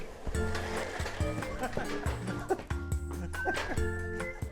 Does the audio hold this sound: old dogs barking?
yes